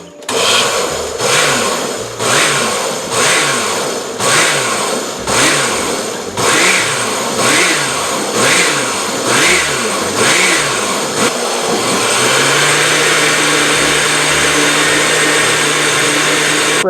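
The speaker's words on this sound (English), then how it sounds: "But now we're going to go and blend. So here's the blender." An overfull blender blends a thick mac and cheese sauce, pulsing in about a dozen short whirring bursts before settling into a steady, loud grinding whine.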